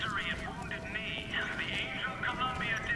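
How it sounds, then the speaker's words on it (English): A horse's hooves clip-clop in the video game Bioshock Infinite, set in a flying city. The steady, fairly faint hoofbeats keep an even rhythm beneath a soft voice. "There appears to be a problem with this horse."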